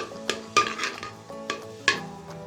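Moong dal is stirred in desi ghee in a metal pan, giving a run of five or six ringing scrapes and clinks at an uneven pace over a faint sizzle.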